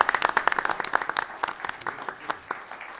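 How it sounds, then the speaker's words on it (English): A round of applause at a Putnam County, Florida county commission meeting: many hands clapping in dense, irregular bursts that thin out slightly toward the end, fairly close and loud, with no talk over it. "let's give him a round of applause"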